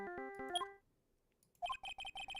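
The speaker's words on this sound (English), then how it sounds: "I know that song your phone plays when it rings." A ringtone from the Ace Attorney video game, a bright electronic melody of quick tones, then a short pause before the repeating chime pattern resumes with clipped, evenly spaced notes.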